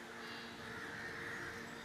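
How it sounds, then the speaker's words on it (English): Crows cawing in The Witcher 3, a faint raspy bird call held over soft ambient background, with no voices. "Those crows all flew through the wall."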